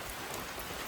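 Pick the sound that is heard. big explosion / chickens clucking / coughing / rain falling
rain falling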